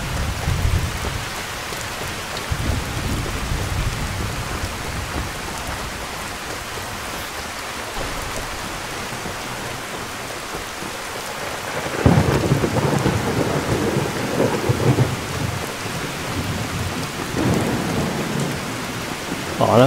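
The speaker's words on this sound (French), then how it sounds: "Il continue à pleuvoir." Steady rain and rolling thunder in Skyrim VR, with a continuous wash of rainfall and a louder thunder rumble breaking in around the midpoint, carrying on alone without voices.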